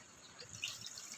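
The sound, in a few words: water being added to a pot of mung beans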